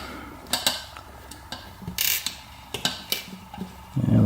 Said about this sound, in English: Take the screws out.